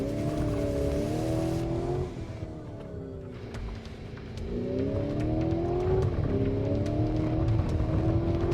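A Lamborghini Urus SE hybrid super-SUV accelerates hard on a lap. A loud, close engine roar climbs through the revs, dips as the SUV backs off briefly, then surges again, with faint sharp ticks over it and no talking.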